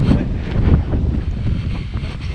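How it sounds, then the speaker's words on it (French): A headwind buffets the microphone on a walking loop at Saint-Martin-Lalande, in low, rumbling gusts, a close, blustery roar that swells and eases without any clear voices. "nous avons un petit vent de face"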